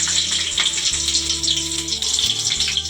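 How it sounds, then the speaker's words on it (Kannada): Loud, crackling sizzle of garlic, dried red chillies and green chillies hitting hot oil for tempering, continuous and close, with a low hum underneath. "ಎಣ್ಣೆ ಕೂಡ ಬಿಸಿಯಾಗಿದೆ ಇದಕ್ಕೆ ನಾನು ಬೆಳ್ಳುಳ್ಳಿ ಒಣಮೆಣ್ಸಿಕಾಯಿ ಮತ್ತು ಹಸಿಮೆಣ್ಸಿಕಾಯಿನ ತೊಗೊಂಡಿದ್ದೀನಿ"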